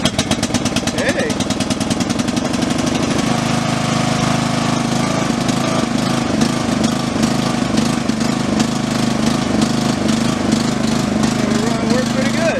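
A Troy-Bilt riding mower engine starts with a rapid chugging rhythm, then settles into a loud, close, steady running rumble with a regular knocking pulse.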